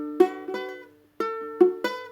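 Ukulele chord strummed with fingers accidentally touching other strings, giving a muted, choked tone; five separate strums in an uneven rhythm, close and moderately quiet, each dying quickly, with a short gap in the middle.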